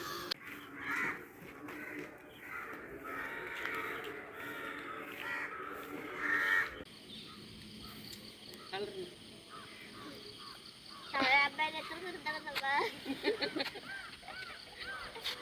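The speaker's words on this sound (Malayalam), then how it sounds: "കാക്കയല്ലേ" Crows caw in short repeated harsh calls at moderate distance during an outdoor walk, with people talking nearby and a change of scene midway.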